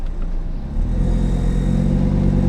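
An Audi RS3 with a stage 2 tune switched into sport mode gives a steady, loud low rumble that swells slightly about a second in and holds at a deep idle drone, with no voices.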